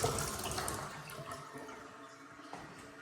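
Water runs from a faucet in a new construction home, a steady rushing flow with slight splashing that gradually softens, heard alone without talk.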